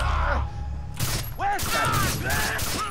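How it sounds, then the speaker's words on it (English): Silenced single-fire assault rifle with a red dot sight in the video game Far Cry 3, heard as a few muffled, spaced shots mixed with game effects and groaning, loud and close. "I am using the single fire assault rifle that you can buy with silencer and red dot sight"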